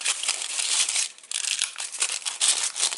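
A paper trimmer blade runs through crumpled material, giving a loud, close, continuous crinkling and scraping that is brief and dry with one short pause midway.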